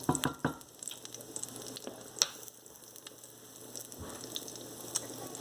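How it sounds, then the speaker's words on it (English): Soft, steady sizzling of cumin frying in hot oil in a pan, a close crackling hiss with occasional small pops and faint stirring clicks. "You can start seeing that it's sizzling"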